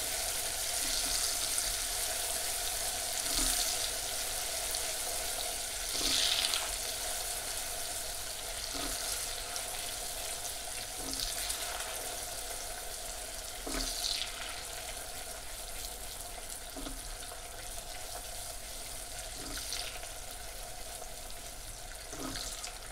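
Butter sizzles steadily after going into hot caramel, a soft continuous hiss with faint periodic clinks of stirring, fairly quiet and with no voices.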